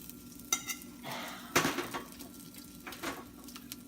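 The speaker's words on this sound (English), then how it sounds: "spoon of olive oil, and then we'll add our onions, okay," Onions go into a pan of olive oil for a Bicol-style crab dish, producing a soft, close sizzle punctuated by a few utensil clinks and scraping stirs.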